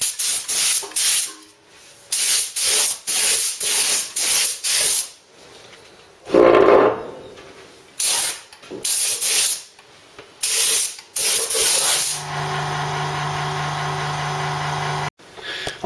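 Repeated bursts of close, loud hissing spray paint the final paint layers onto a MK3 Ford Cortina in a classic car restoration, pulsing on and off in rhythm, ending in a sustained hiss.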